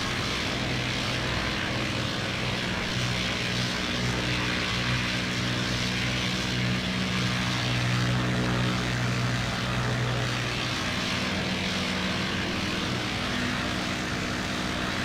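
Aircraft engines of a bomber formation in the IL-2 flight game, a loud continuous propeller drone with steady tonal hum and slight shifts in pitch, filling the whole stretch without pause or speech.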